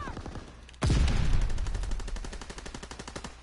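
Sustained rapid gunfire from a combat video game erupts suddenly after a quieter moment, with a heavy burst and continuing loud automatic shots and rumbling fire.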